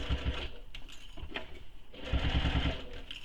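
A sewing machine stitches a backpack through interfacing and lining in quiet, short rattling bursts, with a brief pause between runs, close by and alone.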